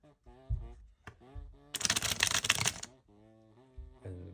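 A deck of playing cards is riffle-shuffled in real time: one dense, crisp, about one-second burst of fluttering card clicks, close to the microphone, with a person talking before and after it.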